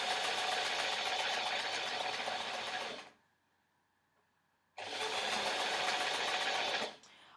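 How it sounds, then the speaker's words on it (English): A sewing machine runs a straight running stitch along a dress in two steady, even bursts of a few seconds each, separated by a short quiet pause, close and clear with no talking. "So if we just want a straight running stitch all the way down."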